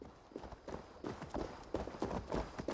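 Horse hooves clip-clopping in Assassin's Creed Valhalla, a steady repeated rhythm of close, fairly loud hoofbeats on hard ground, continuing throughout.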